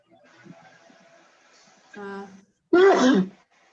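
A single sharp sneeze bursts out after quiet murmuring and a brief throat sound, loud and close to the microphone.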